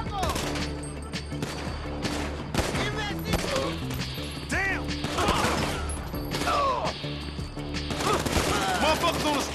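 Gunfire in the video game GTA V, repeated loud shots and bursts scattered through a chaotic firefight, mixed with crashes, mechanical clatter and game music, with voices shouting over the action.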